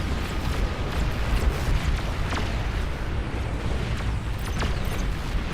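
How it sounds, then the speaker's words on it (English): Explosions rumble through a large battle in the real-time strategy game Beyond All Reason, with a dense, continuous low boom and a few sharper bursts layered over it, loud and unbroken, with no talking. "I heard an explosion."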